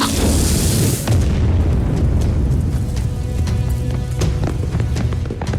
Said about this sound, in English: An explosion near the southeast corner.